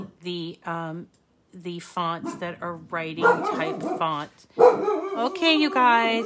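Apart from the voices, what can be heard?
dog barking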